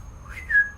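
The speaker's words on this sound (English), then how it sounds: "We hear whistles." A short, thin whistle rises and then holds a steady pitch against faint background noise, heard during a paranormal investigation.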